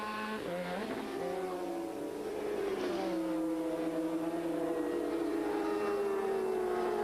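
Honda and Kawasaki racing motorcycles at the 1997 Bol d'Or endurance race, engines wailing loudly with rising and falling pitch as they pass and accelerate along the track.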